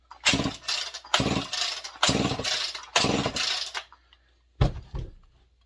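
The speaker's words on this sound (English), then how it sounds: "Let's give it a few more pulls just because." Someone pull-starts a Homelite XL-12 chainsaw with the throttle lock on, giving four long, rasping recoil pulls in steady rhythm, then one quick shorter pull. The engine does not catch, and the pulls sound close and loud.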